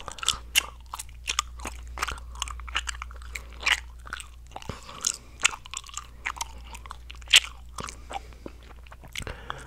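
Bubble gum being chewed up close in an ASMR setting, with irregular wet crunches, smacks and clicks repeating throughout at a moderate, steady pace, and no talk.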